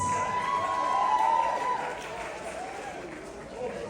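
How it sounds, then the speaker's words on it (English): Audience applause at a school pageant interview segment, a moderate wash of clapping from a crowd that gradually thins, with a voice over it near the start. "Let's keep the applause going"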